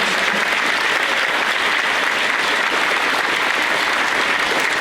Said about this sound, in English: let's give our teachers a round of applause for all their hard work